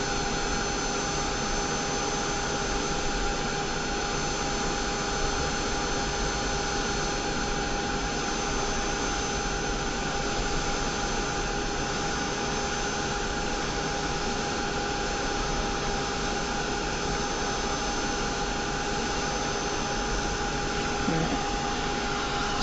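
A dryer blows steadily on a wet craft project, a loud, close, continuous whooshing roar that holds evenly from start to finish.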